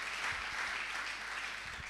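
A church congregation applauds with a continuous, dense clatter of many hands, moderately close and steady for the short stretch, with no voices standing out.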